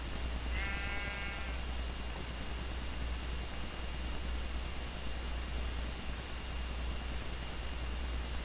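A Minecraft sheep gives a single short bleat early on, a quick wavering call heard against a steady bed of hiss and low hum, with no talking.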